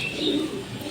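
A brief stretch of close, muffled cooing from Janssen-line racing pigeons in a Tangail loft, a low warbling murmur with a faint high chirp near the start.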